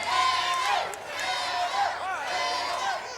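A Mid South Wrestling crowd cheers and shouts at a 1985 match, a loud mass of excited voices and high whoops rising and falling in waves, with sharp individual yells cutting through the arena roar.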